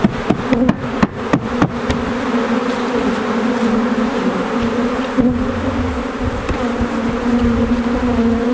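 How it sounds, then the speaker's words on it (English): Dense, continuous buzzing of a honey bee swarm all around, with a few sharp taps near the start. "there's tens of thousands of bees around us right now"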